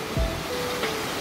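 Steady broadband rush of Yukdam Waterfall on Seoraksan, a tall cascade of linked pools along the Towanggol valley, heard alone as continuous moderate water noise with no voices.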